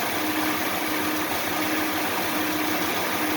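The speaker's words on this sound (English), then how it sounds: "So I'm thinking this thing with the SRTA cam likes about 900 RPM." A 5.7 Hemi V8 fitted with an SRTA cam idles steadily at about 900 RPM, a constant close-up rumbling drone with no talking.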